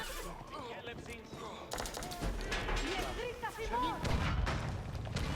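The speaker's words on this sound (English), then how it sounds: "Cannons are cannoning" Cannons firing in an Age of Empires-style strategy game battle, repeated sharp booms and crackling shots in quick bursts, mixed with horse neighs and battle noise, while someone talks over it.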